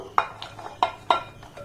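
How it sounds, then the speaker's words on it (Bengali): Cut raw green mango pieces tipped into a cooking pot for oil-free pickle, giving three or four sharp clattering knocks of fruit against the vessel, close and fairly loud with short pauses between. "এবার আমগুলোকে এই পাত্রের মধ্যে আমি ঢেলে নেব।"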